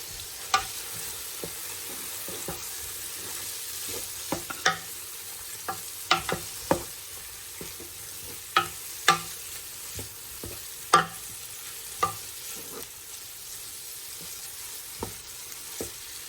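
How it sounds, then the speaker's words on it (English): Ingredients sauté in a pan for a balsamic cranberry bourbon roast, a steady close sizzle punctuated by sharp irregular clicks and scrapes of stirring, with no talking. "we're going to let that saute up a little bit"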